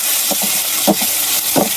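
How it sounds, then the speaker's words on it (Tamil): Onions and tomatoes being sautéed in a pan, with a steady frying hiss and a few soft scrapes of stirring spaced through the short stretch. "வெங்காயம் தக்காளி எல்லாமே போட்டு வதக்குறாருங்க."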